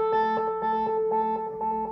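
Electric guitar runs through a Pitchfork+ pitch shifter pedal set one octave up, giving a steady sustained tone with a softly pulsing, repeating texture, moderately loud and close.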